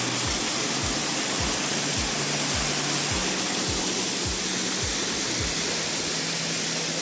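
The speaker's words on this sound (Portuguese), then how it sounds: "essa aqui é uma das cachoeiras que tem. É a menor" A small waterfall on a rural property, a dense, continuous broadband rush of falling water, close and steady throughout, with no voices.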